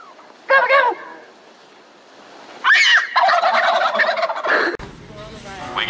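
A human voice imitating a turkey's gobble, two short warbling bursts a couple of seconds apart, followed by people chatting in a casual indoor setting.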